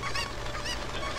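Cuccos, the chickens of the video game Ocarina of Time, give repeated honking, squawking cries over a steady background of game sound, with no talking over them.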